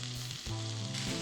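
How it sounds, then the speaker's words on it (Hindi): Chopped tendli, about 300 to 350 grams, drops into a hot oiled pan for chutney, giving a loud steady sizzle with a brief burst of frying crackle when it lands, with no talk. "और अब ऐड कर देंगे ये कटी हुई तेंदली"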